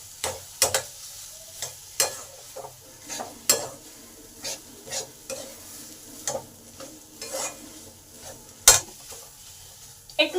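A banana blossom chop filling with grated coconut being stirred in a pan (kadai), giving spaced scraping strokes of a spatula against the metal over a soft sizzle, close and unhurried, with no speech.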